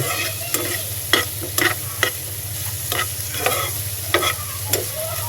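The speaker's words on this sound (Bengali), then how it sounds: "সুন্দর একটা ভাজি হচ্ছে, অসাধারণ।" Chopped vegetables fry in a pan under a constant low sizzle. Regular sharp scrapes and clinks of a spatula stirring them punctuate it, close by, with no talking.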